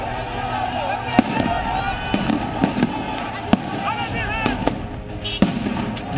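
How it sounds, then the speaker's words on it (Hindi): Gunfire crackles during a clash between Muqtada al-Sadr supporters and security forces at the presidential palace in Iraq, with a handful of sharp, scattered shots ringing out over a noisy crowd and shouting voices. "देखते ही देखते गोलियां चलने लगी।"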